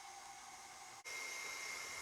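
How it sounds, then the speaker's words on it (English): A KitchenAid stand mixer with a paddle attachment beats eggs and sugar, producing a steady, quiet motor whir with one brief dip partway through before it resumes evenly. "We'll be using the paddle attachment, and this is our KitchenAid."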